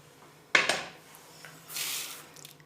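Masoor and mash lentils are washed in an open pot of water, with a sharp clatter of the pot, then a brief splash and a longer sloshing swirl of water nearby. There is no speech.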